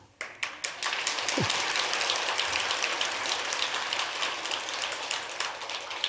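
An audience applauds at a Buddhist temple dharma assembly. A few scattered claps open into sustained, dense clapping that fills the hall to the end.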